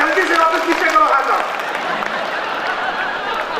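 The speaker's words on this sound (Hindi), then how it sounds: "दोनों हाथ में उठा करके ताली बजाइए" Audience applause at a Hindi kavi sammelan poetry gathering in Bhilai, a dense wash of clapping that fades, with a voice speaking over the start.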